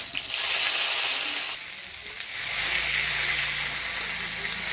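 Chopped onion hits hot oil tempered with dried red chilli, bay leaf and five-spice seeds and sizzles loudly, with a bright steady hiss and stirring scrapes as it is moved around the pan.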